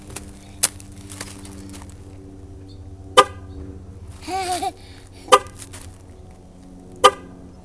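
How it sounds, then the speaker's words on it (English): Short car horn honks sound alone at irregular intervals, a few sharp toots over a quiet background, with a brief rustling noise between them. "Are you making it honk, Calvin?"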